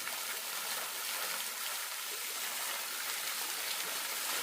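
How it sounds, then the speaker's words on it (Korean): Water pouring from an outdoor fountain, a continuous bright splashing rush, steady and close, with no talk. "이 분수대에서 물 쏟아지는 거 봐도 상쾌합니다"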